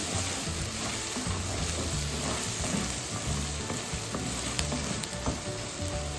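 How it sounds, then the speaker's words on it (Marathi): Ginger garlic paste fries steadily in hot oil for a cauliflower, pea and potato curry, a loud, close, continuous sizzle with a few stirring scrapes, no voices. "आलं लसूण पेस्ट आपण अशी एक अर्धा मिनिट परतून घेऊया"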